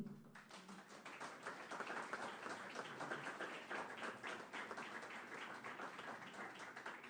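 A crowd applauds with dense, steady clapping that carries on for several seconds without a break.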